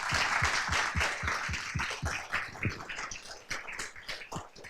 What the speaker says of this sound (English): join me, please, in one more round of applause to all.